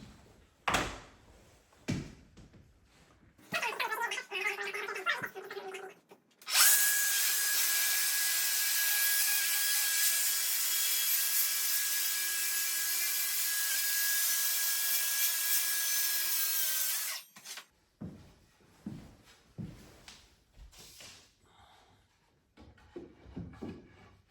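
A circular saw scribes a wooden baseboard in a room, spinning up and cutting in one loud sustained run of about ten seconds, with handling knocks and shuffling before and after.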